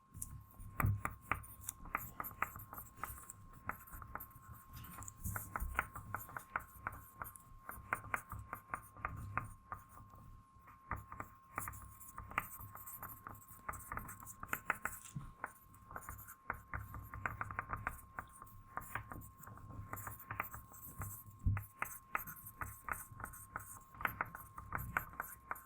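Pens scratch and scrape steadily across paper as several students in a group counseling session write down answers, a dense, continuous scribbling texture with many small strokes and no talking.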